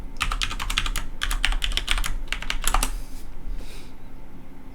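Login password being typed on a computer keyboard, a quick burst of close, crisp key clicks in uneven rhythm, then a pause and a single softer keystroke.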